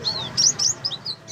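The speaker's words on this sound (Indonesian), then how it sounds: "Ini saya punya satu koleksi jalak kebo." A Javan myna kept as a caged collection bird gives a short run of bright, whistled chirps and rising notes, close and clear against a quiet background.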